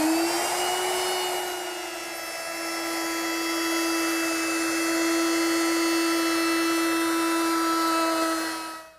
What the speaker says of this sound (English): Now I'll round over the top edge with a 3/8 inch radius rounding over bit.